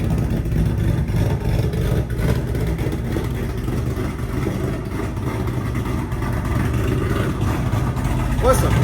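A 2024 Ford Mustang Dark Horse with a ghost cam tune, its engine rumbling loud and close in a heavy, uneven low idle that continues throughout.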